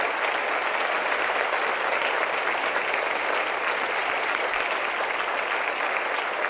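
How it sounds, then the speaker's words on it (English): Sustained applause from a large crowd at a high school choir variety show, steady clapping that holds at full strength throughout. "let's give our MCs a huge round of applause"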